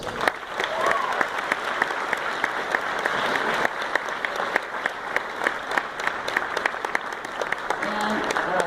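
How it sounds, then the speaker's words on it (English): A dense wash of audience applause at the Eisner Awards show at San Diego Comic-Con, steady and full throughout, with sharper individual claps standing out near the front and faint voices mixed in. "And how about a round of applause for the two guys who handled the overall production of the show, Paul Sansone and Tom Ware and their staffs."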